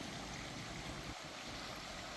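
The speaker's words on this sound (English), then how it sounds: "we're going to get up to the river here and take a look at Haymeadow Creek" Haymeadow Creek, a mountain stream, flows in a steady, loud, broadband rush of water that fills the whole stretch without pause, with no talking.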